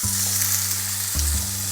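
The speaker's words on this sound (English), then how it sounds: "I'm frying up my burger very hot." Frozen hamburger patty cooking on a hot stovetop pan at medium heat, a loud, continuous close sizzle with crackling spatter and a steady hiss throughout, no voices.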